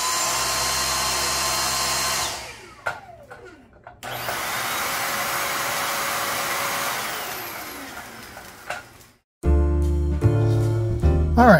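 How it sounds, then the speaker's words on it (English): A HiHHY stick vacuum running: a loud, steady high motor whine and airflow hiss that stops and restarts, with a few sharp clicks and clunks between stretches of running. "compare the relative loudness of these two stick vacuums"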